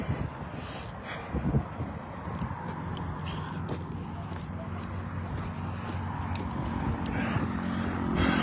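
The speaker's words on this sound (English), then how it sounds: "Excuse the noise, I'm by a street" Outdoor street noise with a low rumble of passing traffic, growing slightly louder toward the end, with occasional scrapes and clatter nearby.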